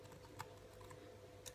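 A few key presses on a Lenovo B475 laptop keyboard, two distinct clicks about a second apart over a quiet room hum, close but soft.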